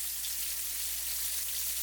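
Pork chops frying in hot oil at 350 degrees Fahrenheit, a steady bright sizzle crackling evenly throughout, close and unbroken.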